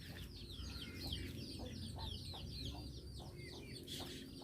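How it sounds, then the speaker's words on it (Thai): Chickens cluck and a rooster calls among ducks at a rural Thai-Lao farmyard, with steady overlapping bird calls near and moderately loud over a low background rumble. "นี่มีเป็ดมีไก่"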